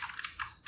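Computer keyboard keys clatter in three short bursts of quick typing, close and fairly quiet, as code is entered for a Laravel ecommerce project.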